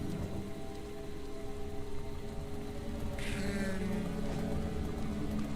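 Steady rain falls in the foggy outdoors of Deadly Premonition, a soft, even wash of hiss that continues without a break under low ambient game sound.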